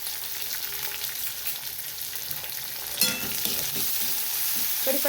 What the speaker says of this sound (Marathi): कांदा पण लाल होईपर्यंत मस्त त्याला परत खरपूस द्यायचं छान.